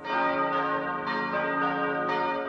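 Church bells tolling in the historic center of Jerusalem, a dense ringing wash of overlapping bell tones that swell with fresh strikes about every second, loud and steady with no voices.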